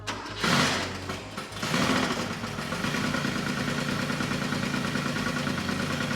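A restored Porsche Carrera RS replica engine cranks and fires with two loud bursts, then settles into a steady, even idle that continues close and loud with no talk over it.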